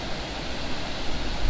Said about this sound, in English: Just look at the amount of water coming over those gates.